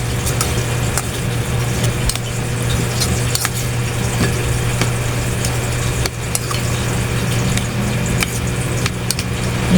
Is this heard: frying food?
yes